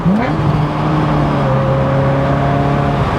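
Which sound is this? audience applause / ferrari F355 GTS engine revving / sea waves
ferrari F355 GTS engine revving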